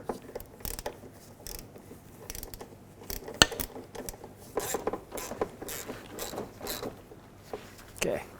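A socket ratchet clicks in short, irregular bursts up close while tightening the front engine mount nut on a 2001–2007 Volvo V70. It works at an awkward angle on a swivel and a long extension, with some metallic clinks between bursts.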